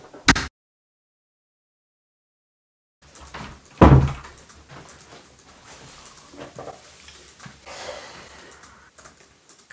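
A door opens with a sharp knock-like clunk near the start, followed by a louder bang and then a muffled rustling room tone with faint movement.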